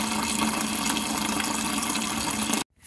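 Water gushes steadily from a disconnected hose on a Case 2470 tractor during fuel line replacement, a loud continuous flow that cuts off abruptly near the end.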